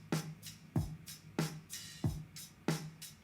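A self-made drum loop from a song plays alone, with punchy kicks and bright snare or hat hits repeating in a steady, even groove of about seven strong beats.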